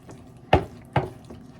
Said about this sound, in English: you want to stir everything in